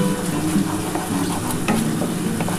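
Spinach for palak paneer sizzles steadily in a frying pan while being stirred, with a continuous close frying hiss and soft scraping movements throughout, no voices.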